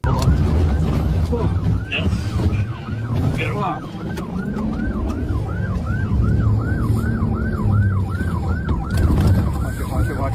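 A police siren wails in a steady, repeating rise-and-fall pattern during a car chase, loud and close over rumbling traffic noise, with voices talking underneath.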